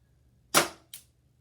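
BB gun fired outdoors in the rain: one sharp, close crack followed by a fainter second snap a moment later, with no talking.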